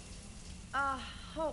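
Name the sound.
shower running with hot water in the video game Mass Effect 3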